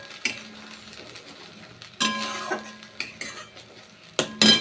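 Onion, tomato and ginger stir-fried in a pan for a vegetarian cabbage dish, with several sharp scrapes and clinks of a utensil against metal over a faint steady sizzle, no talking.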